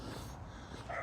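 Small dogs barking briefly nearby on a neighbourhood walk, a short yappy burst heard over steady outdoor background noise.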